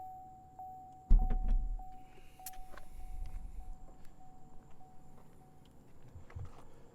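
The rear hatch of a 2016 Corvette Z06 opens with one sharp mechanical thunk, then a low rumbling as it lifts, close by with no talking.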